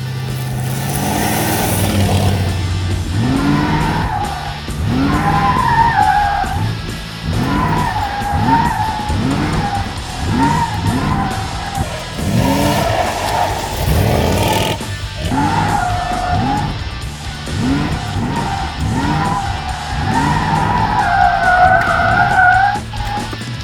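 A Corvette C3 with a classic 5.7 V8 is driven on winter roads, its loud engine roaring through repeated rising revs and gear pulls, with tire and road noise close by.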